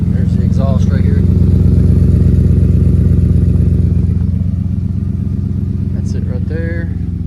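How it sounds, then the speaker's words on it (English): A deep, rumbling twin-turbo 2018 Ford F-150 4x4 engine runs steadily throughout, with a loud idling exhaust drone and occasional clatter, close by. "There's the exhaust right here."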